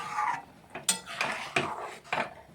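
Condensed milk being stirred into vermicelli halwa in a pan, heard as a few distinct scraping clatters of a spoon against the metal, spaced about half a second apart, close and fairly clear with no talking.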